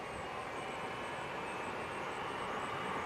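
Boeing 757 jet engines at Milwaukee's General Mitchell International Airport produce a steady, broad roar with a faint high whine, heard at a distance and with no talking.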